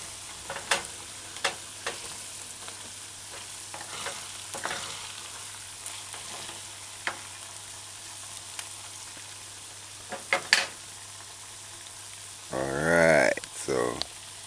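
A wooden spoon scrapes and pushes chicken pieces around a hot frying pan, quiet sizzling with scattered knocks and scrapes, then a louder burst of stirring near the end; no talking.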